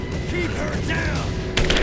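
Gunfire in the Rise of the Tomb Raider video game, a continuous dense rattle of shots under game voices and effects, with a sharper, louder burst near the end.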